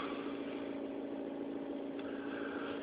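A 2012 Mazda3 hatchback engine idles while still cold, giving a steady, even hum from inside the car with no change in revs.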